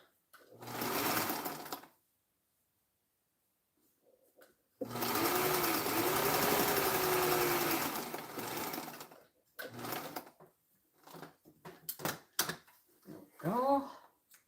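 A sewing machine stitching a quilt runs in two close bursts, a short one and then a longer steady whir of about four seconds, with quieter handling clicks and a voice speaking afterward.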